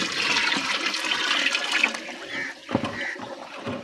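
Sugar water, 2.5 kg dissolved, poured into an 80-litre drum of water for a biofloc fish-farm probiotic, a continuous close splashing gush with brief dips, no talk.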